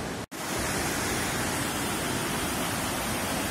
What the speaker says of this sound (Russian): самая быстрая река Аргун. Это ущелье.